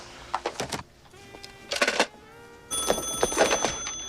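Telephone ringing in a scene from the 1990 film Pretty Woman, a series of repeated electronic ring bursts with short pauses between them, clear and fairly close, followed by a sustained tonal ring at the end.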